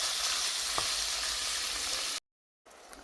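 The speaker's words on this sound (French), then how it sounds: "je viens mettre ma viande hachée et je vais la faire cuire à feu moyen" Minced meat frying in oil in a saucepan over medium heat, a loud, steady close-up sizzle that cuts out briefly and then resumes.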